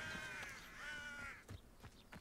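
Ravens in the video game Hogwarts Legacy give a few harsh, drawn-out caws, then a scatter of softer clicks and rustles, moderately loud with no one talking.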